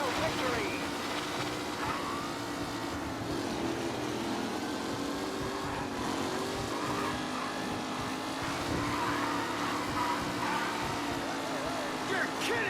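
Race cars in a video game race from Mafia: Definitive Edition roar together in a dense, sustained engine drone with crowd-like wash, steady and loud throughout with no clear pauses.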